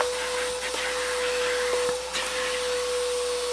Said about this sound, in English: We'll vacuum this stuff up.